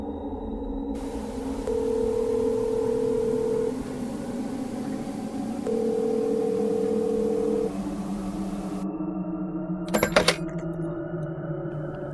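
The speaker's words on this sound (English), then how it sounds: "Dialing 911, I placed the phone to my ear." A phone dialing 911 sounds as two long, steady electronic tones over a low hum, followed by a brief sharp clatter near the end.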